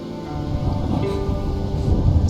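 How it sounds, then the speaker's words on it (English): A video game thunderstorm with rain makes a steady, dense roar of downpour and low rumble that grows slightly louder toward the end, with no voices. "Storm's coming in."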